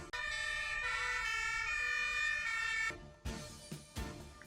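Fire engine sirens wail steadily during a street parade of firefighting vehicles in Ohrid, the long tones sustained loud for about three seconds before cutting off into passing vehicle noise and short horn-like bursts.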